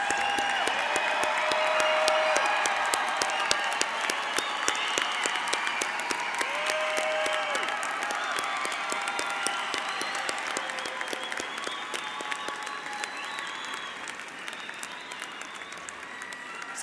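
Large audience at a university graduation ceremony applauding graduates, a dense, sustained wash of clapping that fills the hall and slowly tapers off toward the end, with faint tones and voices briefly mixed in.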